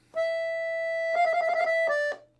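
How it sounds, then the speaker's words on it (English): Accordion plays a classical-style trill in a Balkan music lesson: a long sustained note, then a rapid alternating trill near the end, loud and clear, played solo. "If we will play this trill in a classical way, it will sound like this."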